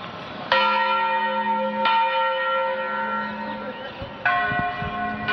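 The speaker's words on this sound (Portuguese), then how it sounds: "O sino parece que é afinado, parece que eles examinaram na tonalidade" Church bell in São João del Rei rings in loud, sustained tolls, with three strikes spaced a couple of seconds apart, each leaving a long ringing hum that overlaps the next.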